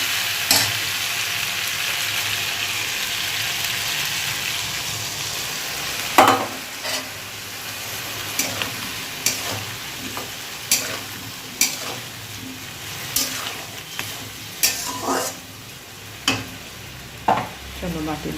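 Spice paste frying with taro in a pan, a steady sizzle broken by regular scraping knocks as the mixture is stirred, loud and close.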